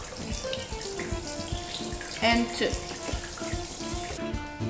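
Water runs from a kitchen tap while pizza dough is being made from scratch, a continuous splashing stream under brief children's talk, with clinks and knocks of kitchen utensils.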